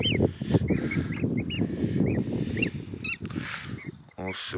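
Several geese and goslings honking repeatedly nearby outdoors, scattered calls over a busy background of low rumbling noise, ending with a louder burst.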